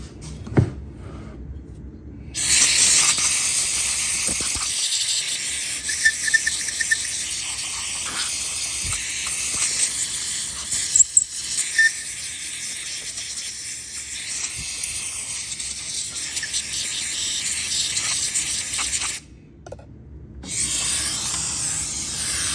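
Compressed air blasts debris out of a chainsaw in long loud hissing bursts, broken by short pauses and faint clatter, with nobody speaking.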